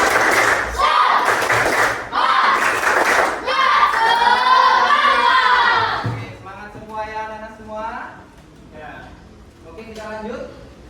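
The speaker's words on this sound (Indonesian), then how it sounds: "tepuk semangat." A classroom of pupils performs a rhythmic 'tepuk semangat' clapping chant, loud voices chanting together with claps woven through, then the chant trails off into quieter sung phrases.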